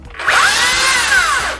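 A power saw bites into wood, a loud close whining cut that rises sharply, holds for over a second with shifting pitch, then fades off.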